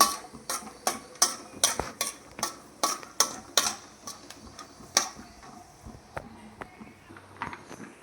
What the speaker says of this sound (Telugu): మీడియం ఫ్లేమ్లో పెట్టుకోవాలి. పల్లీలు వేగేదాకా మంచిగా మిక్స్ చేసుకోవాలి.